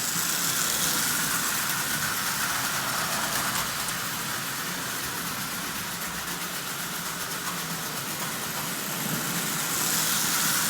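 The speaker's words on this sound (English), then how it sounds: "that motor is running absolutely perfectly" Small Marx toy diesel locomotive motor, fitted with a new gear and brush plate, runs on tin litho track with a steady whirring, rattling drone that holds even throughout.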